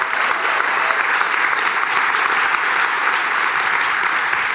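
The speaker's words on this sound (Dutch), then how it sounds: "It's very nice to give the girls already a big clap just before we go over to launch." A launch-event audience gives the girls a big, sustained round of clapping, loud and even throughout with no voices standing out.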